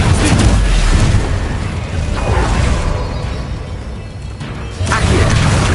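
An Incendio fire spell cast in Hogwarts Legacy gives loud whooshing, crackling bursts mixed with other spell effects and mechanical clatter. The sound is broadband and dense, with a short lull in the middle.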